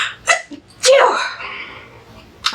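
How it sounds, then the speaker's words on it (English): A single loud human sneeze bursts out near the microphone, preceded by a couple of short sharp inhales and followed by quieter breathy noise. "I'm gonna sneeze."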